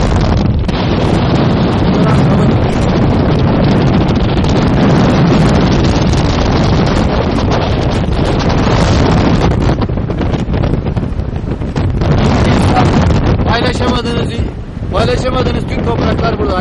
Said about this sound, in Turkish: Rüzgarın şiddeti var ya,